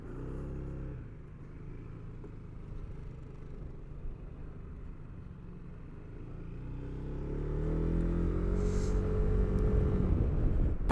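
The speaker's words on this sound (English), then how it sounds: "There's a little bit of a rumble to the engine, and it's not very loud. It sounds like a scooter." A Zontes 310 M 300cc scooter engine rumbles while riding, a modest low drone that builds slightly as it accelerates toward the end, fairly quiet with wind noise and no talk.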